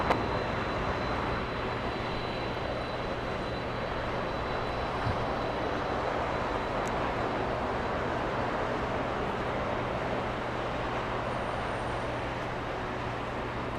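A Cargolux heavy cargo jet taxiing at Los Angeles International Airport, a steady broadband engine rumble with a low hum, continuous and fairly distant, with no talk over it.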